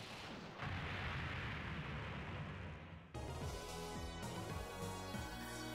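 Bombs going off in a video game, a dense roaring burst sustained for about three seconds, then broken by a sharp cut into layered game sound and music.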